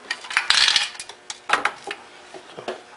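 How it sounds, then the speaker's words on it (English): A broken connecting rod rattles loose inside a tipped-over, blown Briggs & Stratton Quantum engine, giving bright metallic clinks and clatters in a few irregular bursts, close and fairly loud. "I'll tip it over, you can hear it rattling around in there."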